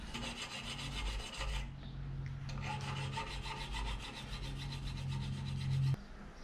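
A hand file rasps across brass in quick, even back-and-forth strokes, close and continuous, with a short pause early on before the rhythmic scraping resumes.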